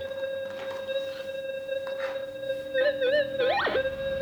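A Gold Monster 2000 metal detector gives a steady electronic tone that warbles and then rises sharply in pitch over a piece of iron near the end, heard alone and fairly close.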